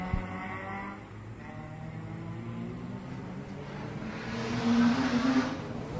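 Racing cars, an Alpine and a Ford Escort in a historic race at the Circuit des Remparts, a steady engine drone at moderate distance that swells as one car revs harder near the end.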